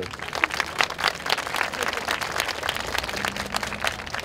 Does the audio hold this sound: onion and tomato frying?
no